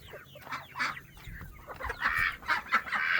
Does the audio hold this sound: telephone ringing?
no